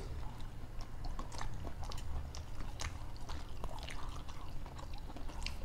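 Chewing and biting on boiled vegetables, carrot, bitter gourd and squash, mixed into bites; soft wet crunches and mouth sounds at close range, fairly faint, with no talking.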